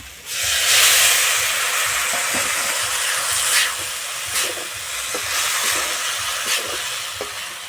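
Bitter gourd cooking in a hot pan just after a little water is poured in, giving a loud steady hiss of steam and sizzling, with a few faint stirring clicks scattered through.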